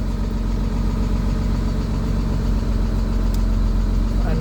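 A Jaguar AJ30 VVT engine runs close and loud with a rich low-pitched idle, its tone rising slightly as it is gently revved toward the end.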